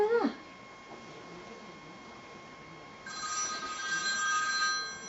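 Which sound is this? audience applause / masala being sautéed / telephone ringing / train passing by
telephone ringing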